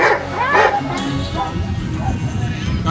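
A service dog in working-dog training gives a couple of loud, close yips and barks amid crowd babble, with a voice talking over it.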